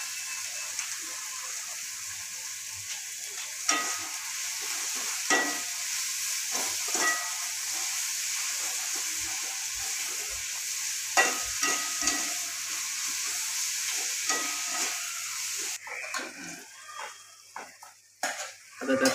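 Hakka noodles with soy sauce and masala are stir-fried in a pan, a steady sizzle running throughout under intermittent scrapes and clinks of a utensil against the pan, close and moderately loud.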